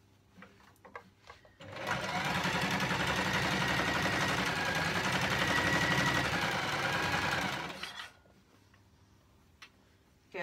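A sewing machine stitches fabric for pajama bottoms in one continuous, fast, even whirring run of about six seconds, close and loud, framed by quiet handling clicks before and after.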